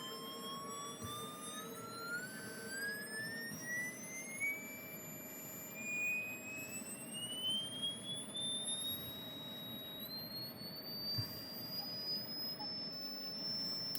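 An electronic test tone played for a rough check of a microphone's frequency response: a pure, steady whistle that glides smoothly upward in pitch, loud and continuous for the whole stretch, with no talking.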